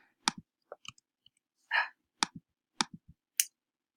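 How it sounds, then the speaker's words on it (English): Sharp, dry mouse clicks, about eight separate ones in irregular pairs and singles, close and moderately loud with quiet gaps between, plus one brief softer shuffling rustle midway; no talking. "I'm going to click Arrange, and I'm going to click Wrap Text"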